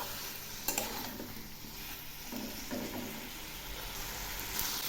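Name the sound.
cauliflower frying and being stirred with spices in oil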